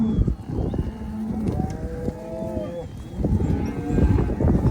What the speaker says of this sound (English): it's kind of fun to see all the cows together